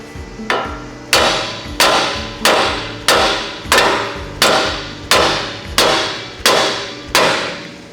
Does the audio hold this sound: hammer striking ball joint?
yes